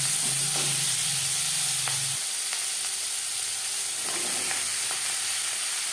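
Spring onions hit two spoons of hot mustard oil, setting off a loud, steady sizzle that fills the whole stretch with dense frying hiss and a few soft stirring scrapes, no voices.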